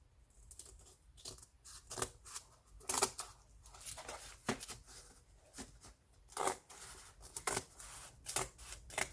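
Scissors snip steadily through book pages, a close run of short crisp cuts with soft paper rustle and crinkling between them, no one talking.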